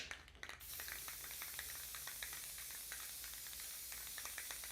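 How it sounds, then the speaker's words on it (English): Bursts of aerosol spray paint hiss over DIY craft tree pieces, a close, steady hissing stream broken by short pulses and faint rattles, with no talking. "we're just going to spray these real quick."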